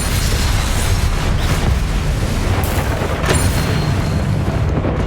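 Fiery blast from a Confringo spell in Hogwarts Legacy: a loud, dense rumble of booms and crackling bursts that fills the whole few seconds, with no talk.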